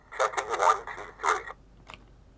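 Warble effect on a handheld 90s vaporwave machine: a wobbly, pitch-bending processed burst of sound, loud at first, then trailing off into faint blips.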